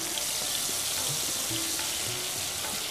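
Mustard paste hitting hot oil with fennel seeds, a loud, steady sizzle and hiss with scattered small pops and stirring scrapes, close up and continuous with no talk.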